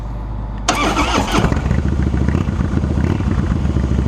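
A motorcycle engine cranks and bursts to life, then settles into a loud, rumbling, clattering idle close by.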